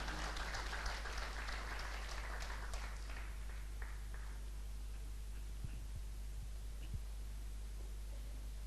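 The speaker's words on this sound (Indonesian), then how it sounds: "Tepuk tangan untuk berdua ini." Audience applause at a large meeting event in Jember, Indonesia, dense and steady for about four seconds before fading into a low hum.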